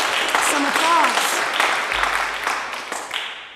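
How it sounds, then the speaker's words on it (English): Audience applause for Gerald, a candidate for Seattle Education Association president, at a death penalty event: a loud burst of clapping mixed with voices and a brief whoop, tapering off over a few seconds. "that deserves some applause"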